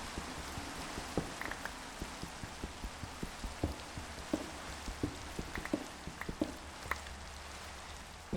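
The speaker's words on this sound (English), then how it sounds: "And it's now raining." Steady rain falls in Minecraft with the TerraFirmaGreg modpack, a constant hiss of rainfall with scattered louder droplet taps over the top, alone and at moderate level throughout.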